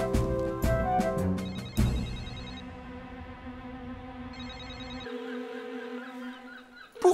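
A telephone rings on and on without being answered in the Fireman Sam cartoon (Pompier Sam). Bright repeated ringing bursts sit over a busy musical cartoon soundtrack, and no one speaks.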